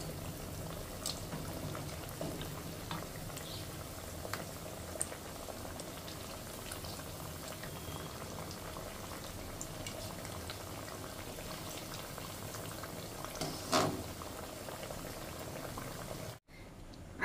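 Sweets fry in a pan of oil. A continuous, even bubbling sizzle holds for the whole stretch with faint clicks scattered through it, then cuts off abruptly near the end.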